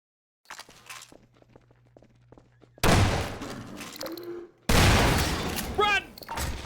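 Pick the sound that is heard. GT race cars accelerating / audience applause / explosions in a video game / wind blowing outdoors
explosions in a video game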